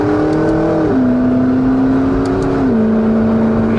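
McLaren 650S Spider engine revving steadily on a British countryside road, with two clear pitch drops as paddle-shift gear changes come through; loud, close and sustained, no talk.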